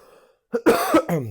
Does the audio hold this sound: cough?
yes